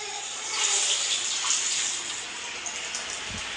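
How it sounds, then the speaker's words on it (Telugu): Bajji batter dropped into hot oil sizzles and bubbles steadily up close, a bright hissing fry that swells briefly and then settles, with no talking. "ఇప్పుడైతే నేను ఆయిల్లో వేస్తున్నాను"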